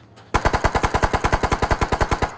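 Automatic weapon fire in the mobile battle royale game PUBG Mobile, a steady rapid burst of about sixteen close, loud shots in even rhythm after a brief quiet start.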